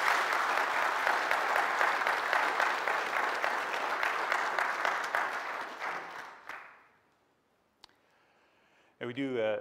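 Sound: audience applause

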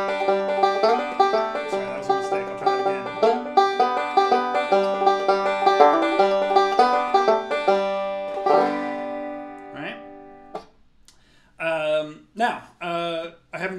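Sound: banjo melody played with a hammer-on

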